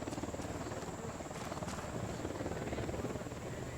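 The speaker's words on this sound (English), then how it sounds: "Copter, get down." An enemy helicopter in the video game Ghost Recon Wildlands flies close by, its steady rotor thrum and whine droning loud and continuous throughout, with a high engine tone held above it.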